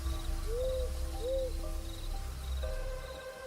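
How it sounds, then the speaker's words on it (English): A barred owl calls at night in a tropical hardwood hammock, giving two short rising-and-falling hoots over a steady hum of crickets and insects, moderately distant and without any voices. "the unmistakable call of the barred owl echoes."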